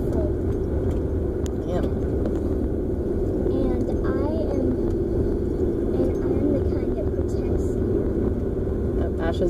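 A car climbs a steep hill, its engine rumbling and straining steadily throughout at close range, with a voice talking briefly over it.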